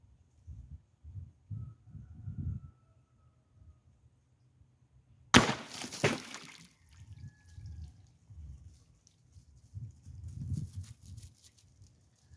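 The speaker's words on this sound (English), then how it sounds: "And that was a shot from 20 yards." An Origin .25 caliber air rifle firing a 30-grain pellet strikes a water jug 20 yards away outdoors: one sharp crack, then a spill of splashing and dripping water, with low muffled rumbles before and after.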